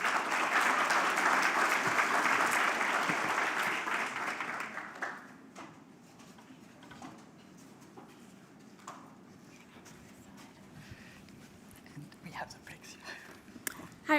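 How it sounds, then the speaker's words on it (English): Audience applause in a summit hall, a dense and loud burst of clapping for about five seconds that quickly dies down to quiet room murmur and scattered small sounds. "Round of applause, please."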